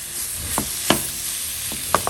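Chicken sizzles in a hot pan, a continuous hiss broken by a few sharp crackles and spits, close and alone.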